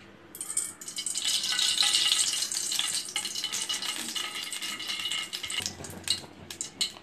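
Sesame oil heats in a pan on the stove, giving a steady, close hiss and crackle of sizzling that holds for about seven seconds with small clicks of utensils near the end.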